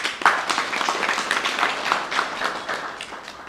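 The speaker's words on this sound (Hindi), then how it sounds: "एक बार ताली बजाइए सभी।" Applause from a workshop audience, a dense sustained patter of many hands clapping at close range, steady for several seconds with no voices over it.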